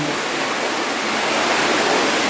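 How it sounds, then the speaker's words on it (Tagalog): A strong rush of water flows through an underground cave passage, a loud, dense, steady roar like a close waterfall, with no voices. "Oh, lakas ng tubig na yan."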